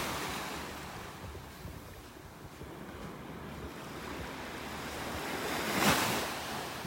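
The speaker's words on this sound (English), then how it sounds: "you can see the waves breaking" Ocean waves break steadily on a beach near low tide in North Naples, Florida, a continuous washing roar with wind buffeting the microphone and a louder surge of surf near the end.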